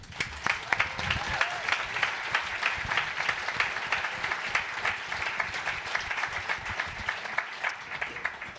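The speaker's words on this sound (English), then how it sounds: "I was going to ask everyone to do a round of applause for the nominees, but you did it already" A live audience at an awards event claps for the nominees in sustained, even applause that fills the room for several seconds, with faint crowd murmur beneath.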